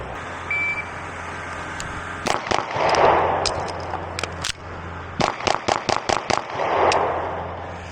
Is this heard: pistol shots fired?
yes